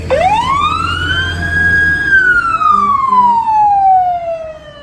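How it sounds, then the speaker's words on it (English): An emergency vehicle siren at an Armed Forces Appreciation Day parade in Rosamond wails loud and close, sweeping up in pitch, holding, then sliding slowly down over steady road rumble. "they screech their siren at you"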